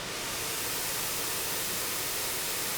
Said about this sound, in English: That's just plain white noise.